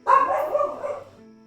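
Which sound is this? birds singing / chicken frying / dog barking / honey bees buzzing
dog barking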